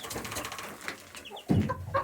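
Mother hens cluck and call in a coop, a few soft bird notes early, then a louder burst of clucking near the end, with no talk over it.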